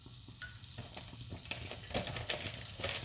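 Cumin seeds crackle in melted butter in a pan, a soft steady sizzle broken by scattered pops and a few light scrapes of stirring, close and fairly quiet, with no voices.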